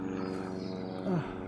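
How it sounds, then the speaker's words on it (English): A fixed-wing airplane flying overhead near an airport produces a steady, faint droning hum with a low tonal whine, heard alone for just over a second. "Aeroplane."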